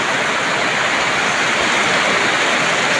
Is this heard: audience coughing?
no